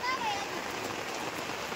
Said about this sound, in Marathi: लय काय पाऊस उघडतोय का नाही?